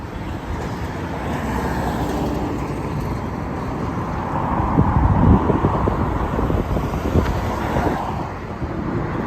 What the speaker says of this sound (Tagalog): Ngayon, mahangin pa ngayon.